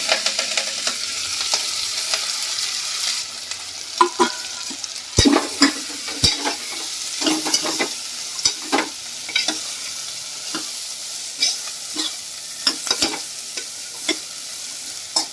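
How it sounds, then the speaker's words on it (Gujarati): Vegetables with whole cumin, turmeric and asafoetida fry in hot oil, a continuous crackling sizzle broken by repeated knocks and scrapes of a spoon stirring the pan. "જો આપણું તેલ ગરમ થઈ ગયું છે તો આખું જીરું નાખું થોડીક હળદર નાખશું અને થોડીક હિંગ નાખી અને આપણે આ વેજીટેબલ બધું આપણે એડ કરી દઈશું"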